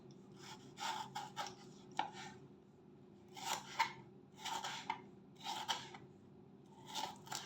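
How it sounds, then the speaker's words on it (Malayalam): Two small tomatoes being chopped with a knife on a board, a series of crisp repeated cutting strokes in bursts with short pauses, close, over a steady low background hum, no talking. "ഇനി എടുത്തു വച്ചിരിക്കുന്ന രണ്ട് ചെറിയ തക്കാളി അരിഞ്ഞെടുക്കാം"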